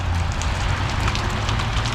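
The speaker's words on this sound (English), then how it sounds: "Just looking outside the room at the rain." Steady rain falls outside a room, a dense even hiss with a low rumble underneath, continuous and unbroken with no voices.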